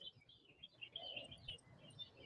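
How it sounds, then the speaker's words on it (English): Faint birds chirping and tweeting outdoors, several short calls scattered over a soft background hush. "some of the birds still talking to us and everything"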